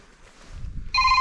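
An incoming call rings on a mobile phone outdoors during March fishing on the Pechora river; after quiet low rumble and faint movement, a close, loud electronic ring tone starts abruptly near the end and continues.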